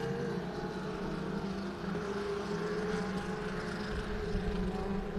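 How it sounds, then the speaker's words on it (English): A race car engine drones continuously with a rough, uneven, sick-sounding tone, steady and moderately loud throughout, during an oval-track race at Heart O' Texas Speedway. "One of those cars doesn't sound great. It sounds a little sick."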